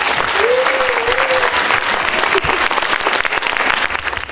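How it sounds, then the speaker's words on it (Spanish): An audience at a public hearing in Miraflores applauds the mayor, loud dense clapping that stays steady throughout, with a brief voice and cheer rising above it early on. "Le damos un fuerte aplauso."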